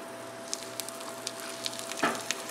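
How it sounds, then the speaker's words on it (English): Pieces of chicken for chicken parmesan sizzle in a hot pan, cooked two at a time: a quiet, steady frying hiss with small pops and crackles scattered through, plus one louder spit near the end, no talking. "And we want to hear that sizzle."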